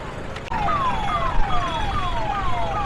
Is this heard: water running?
no